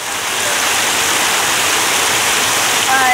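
Stream water rushes in a steady, loud, broadband wash, close to the listener and unbroken throughout, with no voices.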